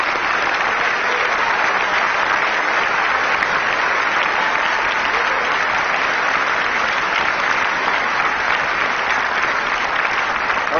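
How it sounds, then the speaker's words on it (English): Steady, sustained applause from a large audience at a Barack Obama speaking event, dense clapping filling the whole stretch without a break. "Please give them a big round of applause."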